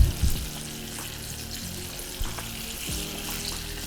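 Chicken pieces frying in a canola oil blend in a small pan make a continuous, close bubbling sizzle, with a few faint knocks near the start.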